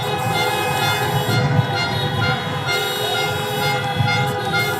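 Car horns honk at a drive-in presidential campaign rally in St. Paul, Minnesota, a loud overlapping chorus of many horns blaring continuously from parked cars.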